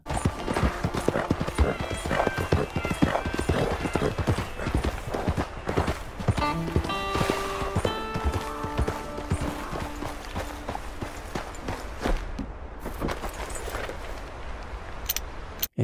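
Horse hooves clip-clop steadily at a walk in the Red Dead video game, a dapple gray thoroughbred nearby, with game music and occasional mechanical clicks layered over the rhythmic footfalls.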